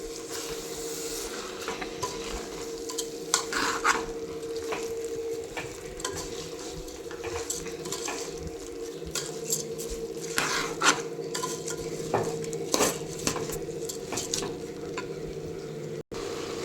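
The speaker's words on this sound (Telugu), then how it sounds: "చూడండి మన మసాలా రైస్కి పట్టేటి ఇట్లా మొత్తం మంచిగా మిక్స్ చేసుకోవాలి" Soaked rice coated in masala is stirred in a pot for a soya chunk pulao. A spoon gives repeated scraping and clinking against the metal over a soft steady sizzle, with no talking.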